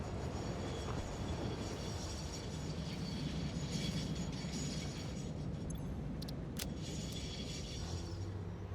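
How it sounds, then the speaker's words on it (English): In the video game Satisfactory, a train rolls along the rails with a steady, dense mechanical rumble that lasts throughout, joined by a few brief metallic clanks near the end, with no talking. "So we may change the way that this train approaches."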